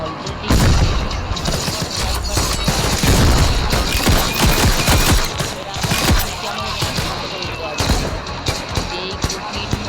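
Dense gunfire and explosions from the War Machine video game, a loud, continuous barrage of booms and rapid shots from start to finish with no clear pauses.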